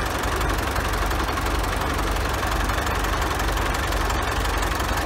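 A Fortschritt E303 mower's engine runs continuously while the machine sits stuck in manure, a loud, steady, rough idle with a knocking rumble that never lets up.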